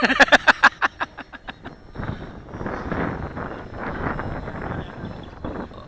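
Strong wind buffets the microphone at a model airplane field, a steady broadband rush that swells and eases in gusts after a few sharp opening thumps.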